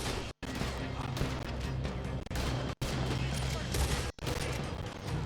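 Dense, sustained gunfire in Red Dead Redemption 2 during a shootout after a robbery, loud overlapping shots with a few brief dropouts, voices talking faintly beneath.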